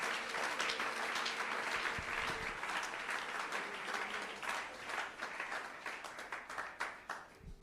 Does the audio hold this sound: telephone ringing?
no